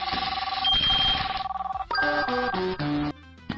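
A phone rings in the video game Shawarma Legend: a bright electronic trill repeats for a couple of seconds, then gives way to a short melodic jingle of chiming tones, with no voices over it.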